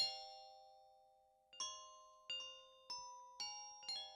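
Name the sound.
bell sound from a Kontakt sample library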